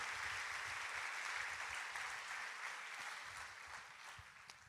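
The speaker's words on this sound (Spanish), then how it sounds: "Si va a aplaudir al Señor, hágalo con toda su fuerza" A congregation applauds during an evangelical church service. A steady wash of many hands clapping sounds faint and distant, softening slightly toward the end.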